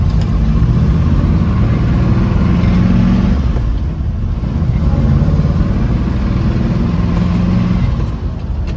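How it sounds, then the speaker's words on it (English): A 1967 Chevrolet Chevelle with a 6-speed manual gearbox drives along with a loud, throaty engine rumble that swells and eases as it revs through the gears, heard close from inside the car with no talking. "Chevelle here, take him out for a spin. This is a 6-speed here."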